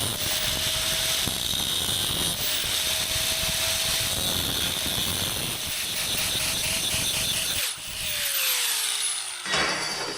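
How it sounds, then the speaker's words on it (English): An angle grinder notching a metal tube, a loud sustained whine with a steady pitch and a brief cutoff near the end, then the motor's pitch falling as it spins down before resuming. "So we're going to make a little notch with the angle grinder."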